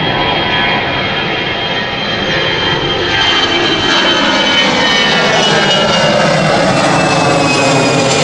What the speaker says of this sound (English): There is the Orlando flight lining up again.